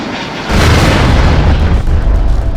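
A loud, heavy boom breaks out and rolls on as a sustained roar after a plane skidded at Baramati airport, with no voices heard.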